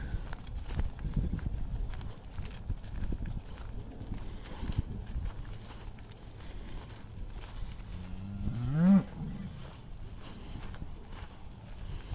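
A cow on pasture moos once for her calf, loud and drawn out, over a background of shuffling hooves and outdoor noise.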